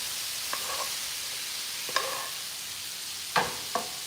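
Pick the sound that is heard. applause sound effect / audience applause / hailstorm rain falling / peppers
peppers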